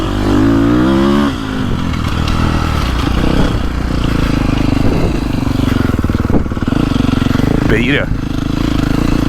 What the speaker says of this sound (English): And see that idle, that free idle into the corners.